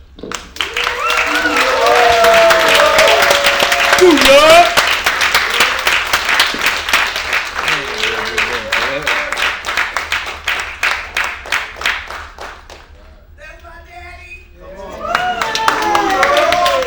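An audience at an event in the Deluxe Theater applauds steadily with dense, rapid clapping that swells loudly, dips briefly near the end, then picks up again, with voices mixed in.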